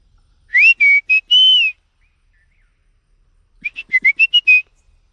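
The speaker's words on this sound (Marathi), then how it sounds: "आपण शिट्टी मारून बघूया कुठल्या पक्षी प्रतिसाद देतो का" A person whistles two short runs of clear, warbling notes, a few bursts, a pause, then a quicker series of rising and falling chirps.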